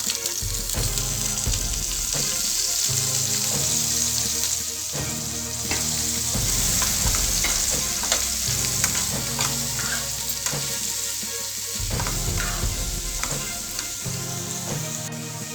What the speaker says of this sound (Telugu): పచ్చిమిర్చి ఫ్రై చేసుకున్న తర్వాత బీరకాయ ముక్కలు వేసుకోవాలి